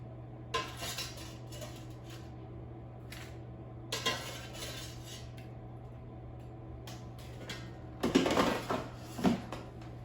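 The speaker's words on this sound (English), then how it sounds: "Let me transfer them from the air fryer to the plate." Breaded mushrooms are moved from an air fryer basket onto a plate, making a few scattered clinks and scrapes of metal and dishware over a low steady hum, with no talking.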